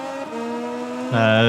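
A racing motorcycle in MotoGP 20 accelerates down the back straight, its engine a loud steady high whine that jumps sharply in pitch and volume as it surges near the end, close up and without talk.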